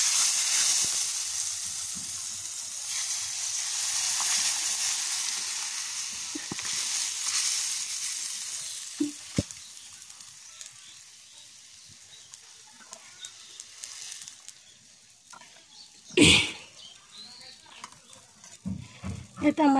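Garlic frying in hot oil for a Bengali chickpea dal with fish head gives a steady hiss, then a loud sizzling burst as the dal is poured in near the end, with a voice talking at times.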